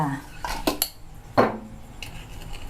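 Pork ribs being washed with salt in a pot: a handful of close, sharp metallic clanks and knocks, irregularly spaced over a quiet background, with no voices.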